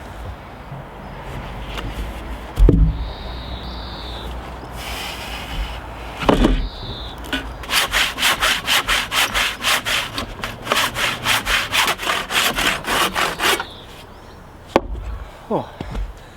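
Hand saw cutting through thick oak sleepers with a steady, loud rhythmic back-and-forth rasp, preceded by a few sharp knocks of timber being handled, alone without talk.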